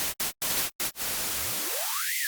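Digitally generated white noise made from uniformly distributed random numbers comes as a flat, full hiss, first in short bursts broken by gaps, then continuous while a filter sweep carves a rising hollow into the sound.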